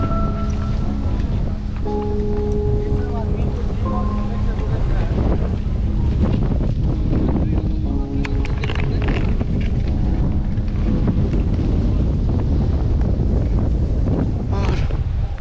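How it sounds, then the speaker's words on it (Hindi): Strong wind blowing across an open hilltop, buffeting the microphone with a constant roar, while faint tones and brief voices sit underneath. "हवा चल रही है।"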